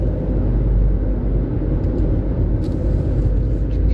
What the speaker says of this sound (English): So there's lots of boats and trucks and stuff coming out right now, campers and such.